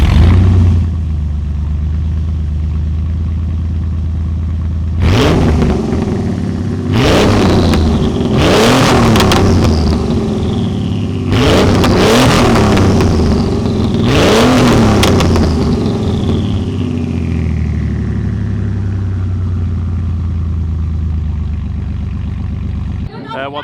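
A loud, throaty tuned turbo car engine, decatted with an essentially straight-pipe exhaust, revs hard several times in bursts, each rev climbing sharply then dropping back to a rumbling idle between.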